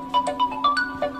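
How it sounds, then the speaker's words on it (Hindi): Phone ringtone triggered from a smart watch, a short bright chiming melody of quick repeated notes over a steady hum, close and moderately loud. "हमारे फोन पे जो है रिंग हो रहा है"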